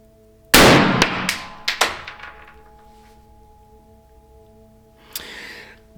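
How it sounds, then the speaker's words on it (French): Shot from a Modèle 1833 officer's pistol at target practice, one sharp loud bang with a ringing metallic tail and a few follow-up clanks, then a fainter single crack near the end, no talking. "c'est la toute première fois que je tire avec ce truc"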